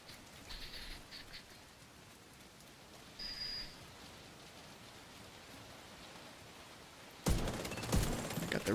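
Steady broadband rain hiss in The Division 2 video game, an even wash of falling rain throughout, with brief electronic chirps early on and a louder burst of noise near the end.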